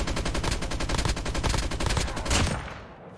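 Assault rifle fire in a mobile shooter game played on a tablet, a rapid sustained burst of evenly spaced shots for over two seconds, loud and close, then cutting off into a short fading tail.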